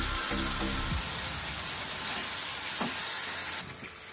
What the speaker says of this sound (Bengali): এবার মশলাটাকে ভালো করে কষিয়ে নেব।